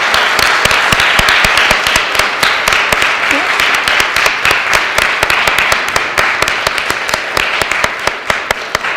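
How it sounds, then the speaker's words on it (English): Courtroom audience at a swearing-in ceremony for chief deputy probation officers, clapping in a loud, dense, sustained round that carries on evenly throughout with only a slight fade toward the end. "let's give one more round of applause for Shannon and LaToya"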